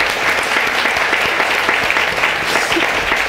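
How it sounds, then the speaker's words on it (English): A courtroom full of people applauds, a dense, sustained clapping at steady volume with no speech. "prompting applause from the entire courtroom"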